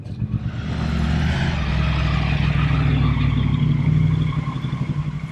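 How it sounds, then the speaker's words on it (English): A custom chrome Triumph Speedmaster's 1200cc single overhead cam twin with a 270-degree crank runs steadily nearby, a loud, uneven, lumpy throb that swells briefly before easing back toward the end. "It's a 1200cc single overhead cam, 270-degree crank. That's why we've got the wop wop sound."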